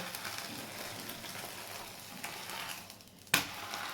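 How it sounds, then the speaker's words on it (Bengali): A flour and semolina snack sizzles steadily in a frying pan, a soft continuous crackle with one sharp clatter near the end and no talking. "এবার আমি এটাকে উল্টে ভেজে নেবো"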